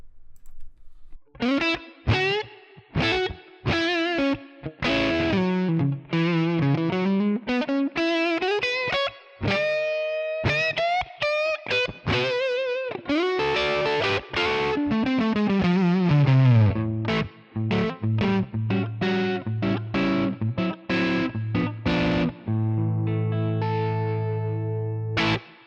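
Les Paul electric guitar on the bridge pickup plays a continuous melodic passage through a crunch amp model with a noise gate and reverb, notes ringing loud and close with sustained chords at the end.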